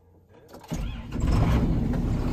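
A 2002 John Deere 7810 tractor engine cranks and catches, then settles into a loud, steady rumbling run close by.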